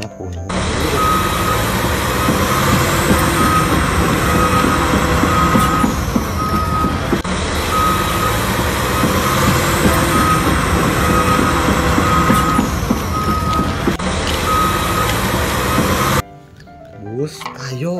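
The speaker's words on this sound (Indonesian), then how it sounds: "Truk tambang berwarna kuning." A yellow mining dump truck backs up with a steady, repeating reversing beep over a loud, constant engine drone, the pattern running nearly the whole clip before cutting off near the end.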